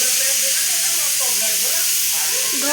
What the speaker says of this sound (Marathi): बरं कुकर बंद कर जरा 2 मिनिटं.